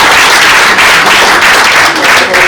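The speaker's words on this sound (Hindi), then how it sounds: "7-8 लोगों ने ताली बजाई" Audience members clapping at a Haryanvi comedy poetry show, a loud, continuous patter of applause close by that briefly dips and resumes.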